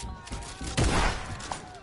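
Gunfire in a video game, heard as a short burst of muffled shots with one heavier blast in the middle and a brief crack near the end, sounds fairly faint under nearby voices and background noise.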